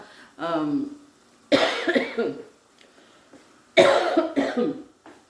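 Two sharp, harsh coughs about two seconds apart, each a short burst with a raspy tail, after a brief murmur of voice at the start.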